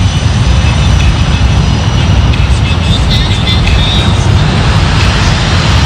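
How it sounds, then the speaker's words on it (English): A steady, loud roar of a jet engine fills the whole stretch without letup, broad and rumbling, with faint higher whines riding on top. "jet to take off, and then you have a couple more right here"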